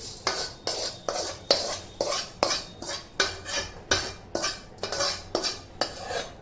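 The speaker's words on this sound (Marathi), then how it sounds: "आणि मग हळूहळू हलवणार थोडासा चिवडा याच्यात घालायचा आणि मग सगळं हे हलवून घ्यायचं" Roasted poha chivda being stirred in a pan, a rhythmic series of about a dozen scraping, rustling strokes with spoon clinks against the metal, close and steady, with no voices.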